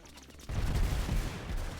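A quick burst of gunfire from the video game Rounds, rapid overlapping shots forming a dense, continuous volley that starts abruptly and stays loud without pause.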